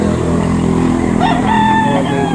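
At a livestock auction market in Lipa, an American breeder rooster crows loudly once and close by over a constant hum of background noise and engines. No talk can be heard.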